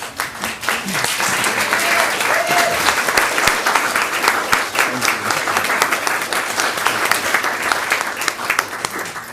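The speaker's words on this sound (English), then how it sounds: "Would you please stand with me and give them a round of applause?" At a Conroe ISD school board meeting, a standing audience gives a sustained round of applause, dense and even throughout, with a faint murmur of voices underneath.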